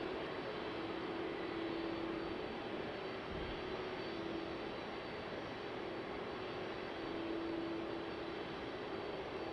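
A Dash 8 turboprop coming in to land at Vancouver airport, a steady moderate drone with a faint sustained propeller tone running through it, heard at a distance without voices.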